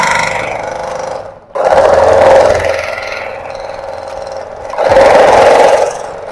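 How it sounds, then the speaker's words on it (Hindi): A sewing machine stitches along the folded edge of pieced fabric from old clothes for a bedsheet, running in loud, close whirring bursts with short stops between them. "बाहर की लाइन को हम इसी तरह फोल्ड करके ऊपर से सिलाई लगाते जाएंगे।"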